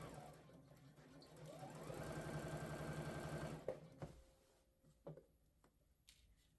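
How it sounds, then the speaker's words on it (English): Home sewing machine stitching a seam down a garment, a rapid mechanical whir that speeds up and runs steadily for a couple of seconds, then stops, followed by a few soft clicks and handling noises. "And then I sew in that seam all the way down to the end."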